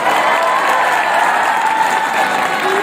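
Students applaud a teacher at a school farewell party, with loud, continuous clapping from a crowd close by and a faint cheer mixed in.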